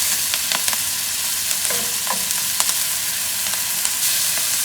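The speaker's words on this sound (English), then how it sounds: "Saute that for a few minutes." Food sizzles and fries in a pan for a stir fry, with steady close frying noise and a few sharp scrapes and clinks of stirring, no voices.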